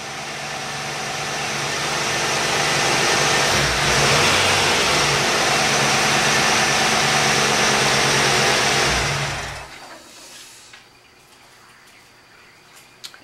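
A 1986 Ford Mustang GT engine idles and revs steadily nearby for several seconds, then cuts off, leaving quiet background with faint birds.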